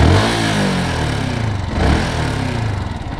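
A 125cc motorbike engine running close by, a loud, chugging, tractor-like idle with a brief swell of revs midway, alone without voices.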